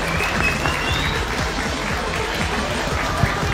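An audience applauds for Amrullah Saleh, former head of Afghanistan's national security directorate, with steady dense clapping filling the whole moment at a constant level, a few brief voices mixed into the crowd.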